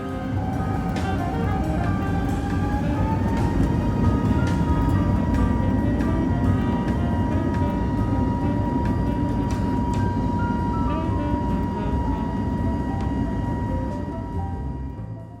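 Cabin of a Saudia airliner out on the runway, with a loud steady engine roar and rumble plus a tonal whine that rises and then holds, and faint clicks over the drone.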